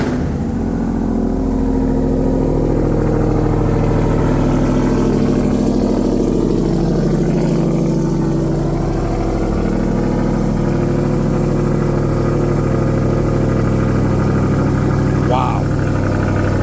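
A supercharged, intercooled 720 hp Hellcat-powered 2022 Ram TRX pickup idles with a deep, steady, loud rumble close by, and people talk faintly in the background.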